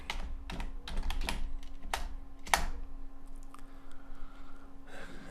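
Quick bursts of clicky computer keyboard typing as a folder name is entered, followed by a few scattered key taps and quieter pauses.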